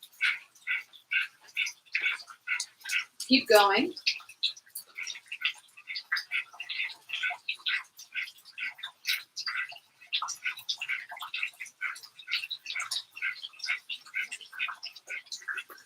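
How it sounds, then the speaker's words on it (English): Breath of fire yoga breathing during a chair yoga session: rapid, rhythmic, forceful nasal exhales in a steady quick pulse, fairly faint. A voice briefly speaks partway through. "So breath of fire is a rapid exhale,"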